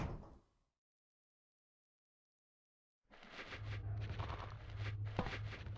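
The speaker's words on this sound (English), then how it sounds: "This door better unlock behind me." A door closes in Resident Evil 2 with a short thud, then near-total silence for a few seconds before a dense rumbling, rattling ambience swells up loud and sustained.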